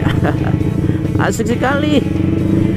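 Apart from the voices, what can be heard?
motorcycle riding during a motovlog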